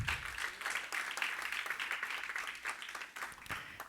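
A church congregation claps hands together during a Spanish-language service, dense overlapping applause that stays steady and fairly close throughout, with no clear talk over it.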